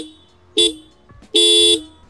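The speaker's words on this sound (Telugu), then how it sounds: "అండ్ హార్న్ కూడా మీరు చూసుకోవచ్చు" A TVS Apache RTR 310 motorcycle sounds its horn twice, a short toot and then a longer blast, loud and close with no talking.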